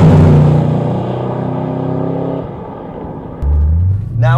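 A car engine with a Borla sleeper exhaust revs and rumbles loudly up close with a deep exhaust note, settling, then roaring again near the end.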